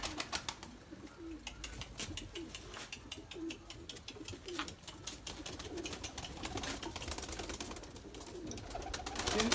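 White Erzurum pigeons coo softly and repeatedly in a loft, with low burbling calls over a busy background of light rustling and scratching.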